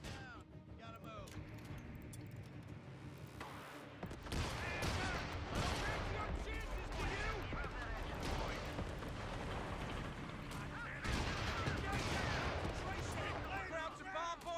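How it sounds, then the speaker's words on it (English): Video game artillery bombardment and gunfire on a front line, with dense rolling booms and crackling shots that grow loud and continuous after a quieter opening, voices mixed in. "Krauts are bombarding our front line."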